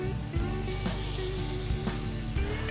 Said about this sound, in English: Get my onions in the butter in here.